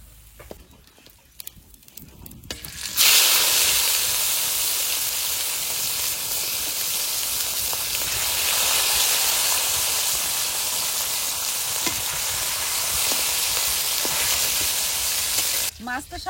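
Large katla fish pieces frying in hot oil, a loud, dense sizzle that bursts in suddenly and holds steady for a long stretch, close up, with faint clatter before it starts.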